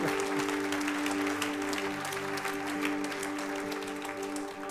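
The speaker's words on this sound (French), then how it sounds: "Est-ce qu'on peut applaudir Marina bien fort?" A church congregation applauds warmly after a speaker's call, sustained clapping filling the room at an even level for several seconds.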